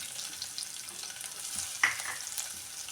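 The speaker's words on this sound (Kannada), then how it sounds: "ಸಾಸಿವೆ ಹಾಕಿದ ನಂತರ ನಾನು ಬೆಳ್ಳುಳ್ಳಿ ಹಾಕ್ತಾಯಿದ್ದೀನಿ." Garlic dropped into hot oil after mustard seeds for tomato rasam gives a quiet, steady frying hiss with one brief sharp crackle partway through, with no talking.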